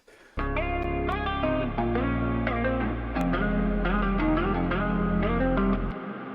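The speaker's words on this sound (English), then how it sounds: "it's like a really dirty and huge hall reverb" Synth chords ring out through a huge, gritty hall reverb, each note leaving a long shimmering wash that blends into the next.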